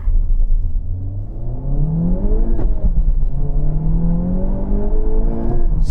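Loud, close engine note of a Honda Civic Type R FK8 accelerating hard from 0 to 60, pitch climbing steadily through the gears with a brief break at a shift before rising again.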